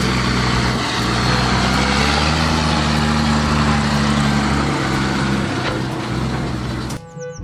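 A tractor engine chugs steadily at close range, a loud, continuous low idle that holds for about seven seconds before a brief chirp cuts it off at the end.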